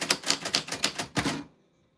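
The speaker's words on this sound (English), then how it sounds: "So we're just typing everyone's names." A typewriter clacks as names are typed, with a quick run of about eight close, crisp keystrokes in an uneven rhythm. A final heavier strike follows, then silence.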